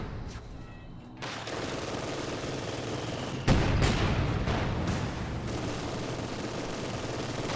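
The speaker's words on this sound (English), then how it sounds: "You can see the difference between that field gun when it shoots." A field gun firing in Company of Heroes 2, World War II strategy game: several heavy booming shots with crackling gunfire between them, one especially loud blast midway, over constant battle noise.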